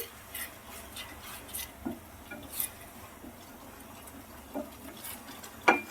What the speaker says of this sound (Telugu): మధ్య మధ్యలో ఇలా తిప్పుకుంటూ ఉండాలండి అడుగంటకుండా చక్కగా తిప్పుకుంటూ ఉండాలి